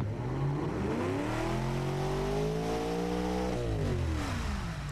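Simulated V8 supercar engine from the car-building game Automation, revving up through a rising then falling sweep of harmonics, loud, close and alone.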